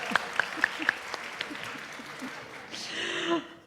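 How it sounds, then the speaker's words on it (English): A few sharp, separate claps open a modest audience applause at a church gathering, sparse and fairly quiet, and a voice speaks over the end. "Let's give a round of applause for Brian Ehler and his creativity."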